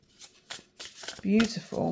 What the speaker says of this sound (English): hand shuffling